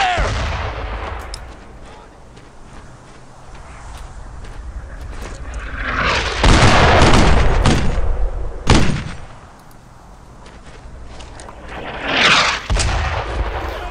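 Heavy explosions and gunfire in the World War II shooter Brothers in Arms: Earned in Blood, with loud booming blasts around the middle and near the end over a constant rumble of battle and occasional voices.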